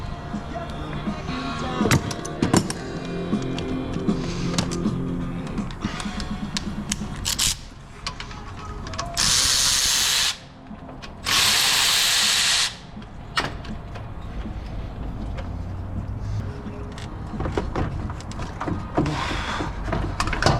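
A power tool undoes bolts on the radiator of a 2017 Dodge Ram 2500 with the 5.7L HEMI, sounding as two loud sustained whirring bursts amid close workshop clatter and hiss, with brief talk.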